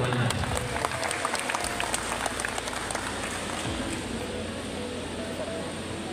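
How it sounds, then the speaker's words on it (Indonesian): An audience of parents at a regional early-childhood education gathering in Kuningan applauds, giving a dense, steady wash of clapping that is loudest at the start and then settles to an even roar, with some speech mixed in. "Tepuk tangan kita semuanya."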